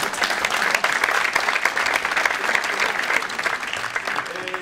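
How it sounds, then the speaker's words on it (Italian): Applause from an audience, a dense and continuous patter of many hands clapping at moderate loudness for several seconds, with faint voices mixed in underneath. "finalmente mi hanno applaudito"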